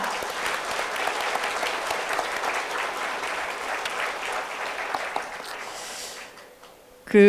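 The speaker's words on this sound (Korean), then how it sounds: "그분들을 위해서 다시 한번 큰 박수 부탁드립니다" Sustained applause from a large audience at a Korean awards ceremony for small-business regulatory reform fills the room, steady and loud, then fades out near the end as a voice begins.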